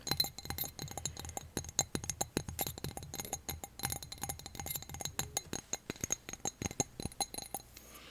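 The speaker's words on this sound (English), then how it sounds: "So this is a little glass athame." A small glass athame clinks repeatedly in a quiet room, giving off bright, delicate taps and light chimes in an irregular stream of close, crisp contacts throughout.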